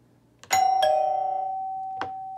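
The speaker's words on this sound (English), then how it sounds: "I'm going to hit the button on the Nest Hello. So this is going to ring the chime" A Nest Hello video doorbell sets off a wired chime: clear ringing tones struck a few times, the last note sustaining and fading slowly, close and alone.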